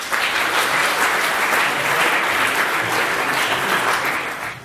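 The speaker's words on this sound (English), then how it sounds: "Ladies and gentlemen, one more round of applause." Loud, full audience applause at an award ceremony as a recipient is honoured, dense clapping holding steady for several seconds before tapering slightly at the end, with no voices over it.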